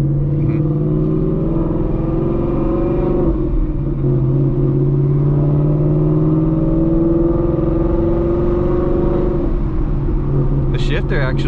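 A Whipple supercharged Ford Mustang with a manual gearbox rumbles steadily at close range while revving, with a few faint, brief exhaust pops near the end and people talking over it.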